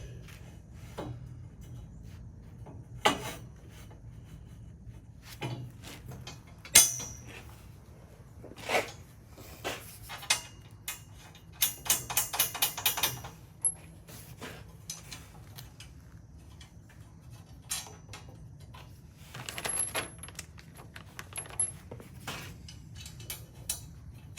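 Metal bolts on a split gate are hand-tightened during assembly, giving scattered faint clicks, taps and light metallic rattles spread across a quiet stretch, with a brief cluster of quick ticks near the middle.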